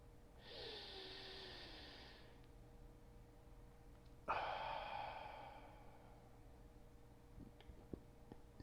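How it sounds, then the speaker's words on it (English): One deep breath in, then a long release: a soft airy intake and, after a pause, a fuller breathy exhale that fades slowly, close and quiet over a steady low hum, with no talk. "we'll just start off with one deep breath in to get us present."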